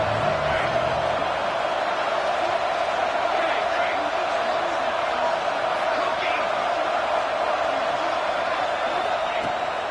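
A football stadium crowd roars steadily ahead of a big third down, a dense, constant wall of noise with a commentator talking over it.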